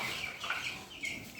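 Chickens in a backyard poultry coop, including a native hen, give brief soft clucks at moderate distance, with no talking heard.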